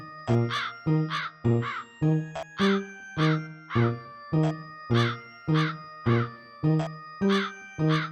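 A cartoon crow caws repeatedly, about a dozen loud, close, harsh calls spaced in a steady rhythm, each a short nasal burst, with no other sounds between them.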